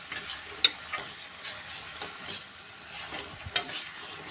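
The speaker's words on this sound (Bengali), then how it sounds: "এবার মশলাটা আমি কষিয়ে নেব।" Spice paste with ginger paste being stirred and fried in a pan, soft steady sizzling with a few sharp scraping clicks of the spoon against the pan, no talking.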